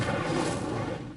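Incendio fire spell cast in Hogwarts Legacy on PS5, a continuous loud whooshing burst of flame roaring steadily for over a second before tapering slightly.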